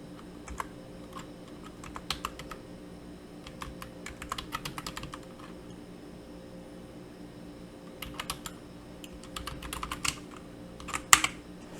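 Keys clatter on a computer keyboard in quick bursts of typing, separated by pauses, close and crisp over a low steady hum.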